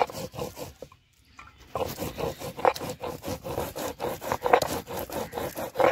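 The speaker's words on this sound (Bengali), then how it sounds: "লঙ্কা বেটে নিচ্ছি।" Chili paste is ground by hand on a grinding stone, making rhythmic rough scraping strokes at a steady pace, close and clear, with one short pause before the strokes resume.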